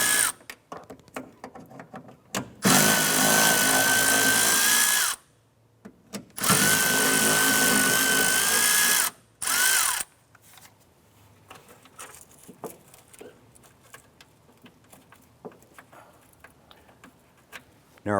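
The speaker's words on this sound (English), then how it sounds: "go ahead and remove these 3 bolts on the other side here" A power tool removes bolts on a 1994-2004 Chevrolet S-10 wiper transmission: two loud, sustained whirring runs of about 2.5 seconds each and a brief third burst, then quieter ticking and clicking of parts being handled.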